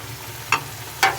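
Tomatoes drop into sizzling masala in a pan, giving two short, bright bursts of sizzle about half a second apart over a low background hiss, close and fairly loud.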